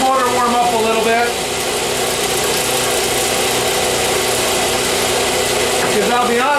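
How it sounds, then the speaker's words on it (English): A small kick-started motor on a board idles steadily while warming up, giving a close, buzzing mid-pitched drone with a slight rise and dip in revs. "Kickstart first. Let's let the motor warm up a little bit."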